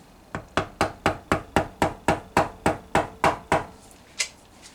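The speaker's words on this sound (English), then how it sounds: "Just give you some few taps just to settle in." A dozen or so sharp hammer taps land on Honda Civic Type R EP3 gearbox parts, close and evenly spaced, followed by one last tap after a short pause.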